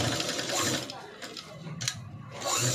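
Sewing machine running steadily, stitching cloth with a half-inch seam allowance for a hanging bow decoration; a continuous close mechanical whir with brief pauses and restarts.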